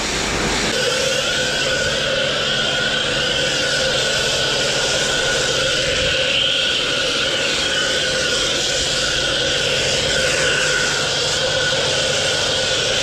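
A dirt bike fitted with an FMF exhaust revs hard while its rear wheel spins freely, making a loud, steady, high-pitched roar that holds without pause and is heard alone with no talking.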